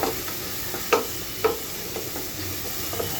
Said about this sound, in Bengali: এক টেবিল চামচ সব মশলা একসঙ্গে এখন একটু ভেজে নিব ভাজা ভাজা করে নেব